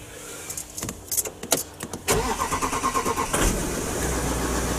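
An Audi Q7 engine cranks with a rapid stutter of starter clicks, catches and settles into a steady rhythmic idle, loud and close, after earlier scattered clicks and thumps.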